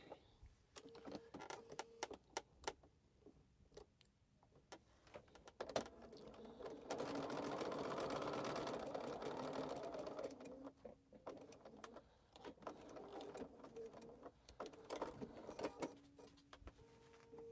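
A domestic sewing machine stitches quilt pieces in a quiet home sewing room, one steady run of a few seconds in the middle, with scattered handling clicks and thumps before and after.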